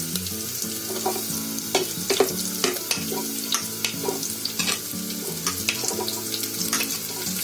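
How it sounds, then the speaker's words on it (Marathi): Green chilies sizzling in hot ghee for masoor pulao while a spoon stirs and scrapes the pan, a steady close crackle with scattered clinks and scrapes throughout. "मिरची पण थोडी ढवळून घेते."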